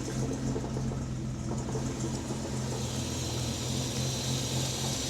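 An Austin Healey 3000 BJ8 engine idling after an idle adjustment, a steady low rumble that holds even and continuous with no voices.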